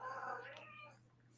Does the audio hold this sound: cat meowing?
yes